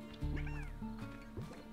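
Chickens in the video game Slime Rancher give several short, low clucks and squawks in an uneven rhythm, close and fairly quiet over a steady game soundtrack hum.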